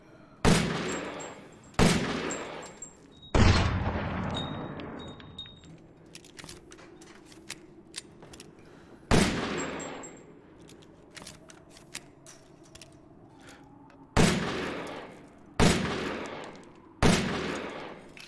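A fully upgraded Magnum revolver in the video game Resident Evil Village fires repeatedly, each heavy shot loud and booming with a decaying tail, spaced several seconds apart, with faint mechanical clicks of handling and reloading between shots.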